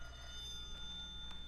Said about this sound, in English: He was here maybe 2 hours when the phone rang.